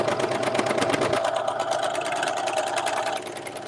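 Serger sewing machine running at speed while gathering skirt fabric, a loud, close, rapid mechanical whirring and clatter that continues steadily and eases slightly toward the end.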